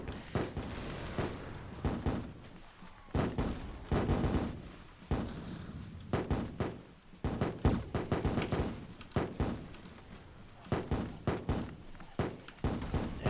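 Mortars fire repeatedly in the Attack on Toys video game, a rapid series of loud booms and thuds in clustered bursts with short pauses between, close and punchy over a continuous din of battle.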